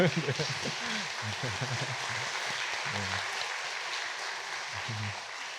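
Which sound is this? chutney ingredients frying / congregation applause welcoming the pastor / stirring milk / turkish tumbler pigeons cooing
congregation applause welcoming the pastor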